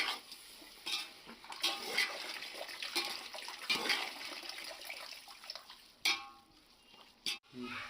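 Handfuls of mint and coriander leaves sautéed in a pan for seeraga samba mutton biryani: a steady soft sizzle with repeated scraping stirring strokes of a spoon against the pan, close and moderately loud, no talking.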